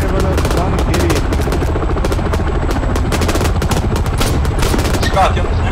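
A mounted gun on a helicopter in Arma 3 fires in rapid chopping bursts over the constant heavy thrum of rotor blades, loud and close, with short louder cracks scattered through.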